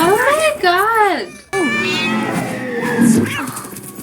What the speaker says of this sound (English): She's afraid of a cat.